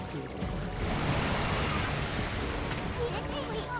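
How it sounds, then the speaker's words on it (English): Swelling ocean waves in the video game Okami roll as a steady, loud wash of surf noise with a windy edge, unbroken throughout. "The swelling of the waves is a sign that it's coming."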